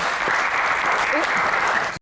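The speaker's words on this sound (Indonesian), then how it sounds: "tepuk tangan" Studio audience applause on a televised Indonesian Q&A talk show, a dense steady wash of many hands clapping loudly and continuously for two seconds, then cutting off abruptly.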